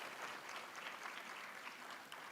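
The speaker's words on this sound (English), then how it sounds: "I think we should give them a big applause." Faint, distant audience applause for Lezim dance performers at a cultural evening at Symbiosis University, Pune, a dense, even wash of clapping that holds steady throughout.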